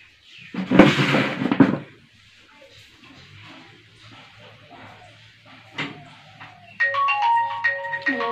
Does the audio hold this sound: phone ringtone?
yes